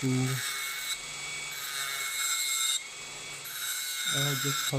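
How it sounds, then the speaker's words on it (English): A tool grinds a jagged metal gear part from an RC two-speed transmission with a steady, loud, high rasping whine, briefly easing off between passes, while someone talks over it. "to grind that part"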